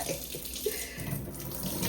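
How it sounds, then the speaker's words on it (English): Running tap water splashes steadily onto red kidney beans being rinsed in a kitchen, a close continuous gush and patter with no talking. "We're going to give them a nice rinse so they're nice and clean."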